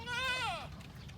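A goat with a cold gives a single short bleat, close and clear, tailing off into quiet background noise.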